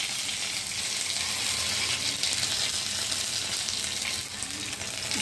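Curry leaves sizzle in a hot pan for a daliya khichdi, a steady close frying crackle that runs unbroken throughout with faint stirring scrapes underneath.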